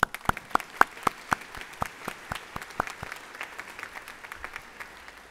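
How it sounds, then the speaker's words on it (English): Scattered hand claps at a chamber of commerce awards banquet start crisp and distinct, then blend into steadier, softer applause from a modest audience. "Round of applause for them, please."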